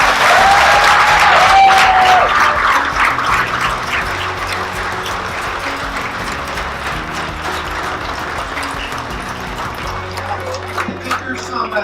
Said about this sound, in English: How about one big final round of applause for all these folks?